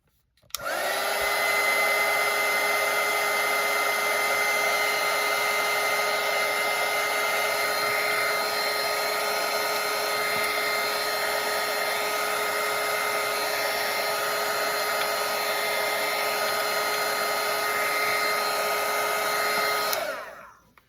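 A hair dryer runs steadily for about twenty seconds over wet watercolor paint, a loud, constant high whirring hum that starts and stops abruptly, with no voices.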